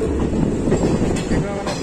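A train rumbles past close by with a steady, heavy roar and faint rhythmic clatter of wheels.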